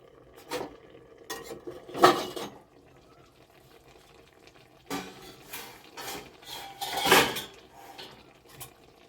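A metal pot lid lifted off a pan of hilsa cooking with Malabar spinach: a few sharp clinks and scrapes of metal against metal with quiet pauses between them, close by, with no talking.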